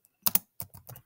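Several quick keystrokes on a Chromebook keyboard as a command is typed, close-up crisp clicks in a short irregular burst, with no talking.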